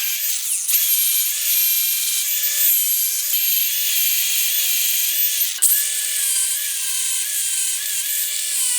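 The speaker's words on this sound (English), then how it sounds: "So let's get the grinder started and we'll start cleaning it up." An angle grinder whines at a high, steady pitch as it grinds paint off metal, close and loud throughout with slight dips in speed as the disc bites into the surface.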